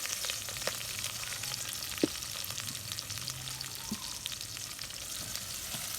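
Medium onions, about 125 grams, sizzle and fry in a pan with a steady, dense crackle and occasional soft stirring knocks, alone and close.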